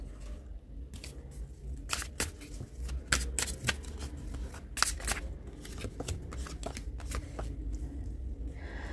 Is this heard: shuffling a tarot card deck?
yes